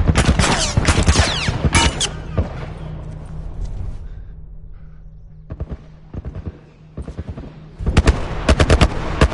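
Gunfire in a PS4 military shooter, loud rapid bursts of automatic shots clustered at the start, scattered single reports through the middle and another close burst at the end, over a low droning background.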